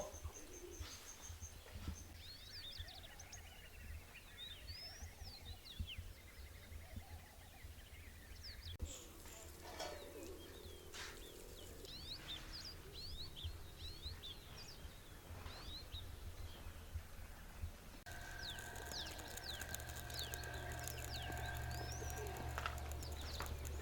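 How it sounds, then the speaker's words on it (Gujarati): Pigeons cooing repeatedly at a moderate distance, mixed with scattered chirps and a low steady background hum. "કબૂતર સકલા આવી ગયા છે એટલે સડ નાખી દઈએ"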